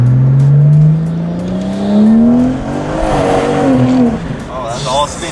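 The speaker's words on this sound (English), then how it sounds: "that's all spinning, bro. Yeah, it was spinning. Right away." BMW car, an E92 M3 or B58-powered model, launching hard with tires spinning on cold pavement, engine note rising sharply then settling as it pulls away, loud and close with people talking over it.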